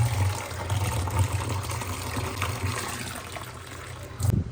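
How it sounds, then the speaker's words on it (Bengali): A mug of plain water poured into potato-boiling water, a close, steady trickling and splashing of liquid with a slightly stronger gush near the end. "আর এর মধ্যে পুরো 1 মগ নর্মাল জল দেব।"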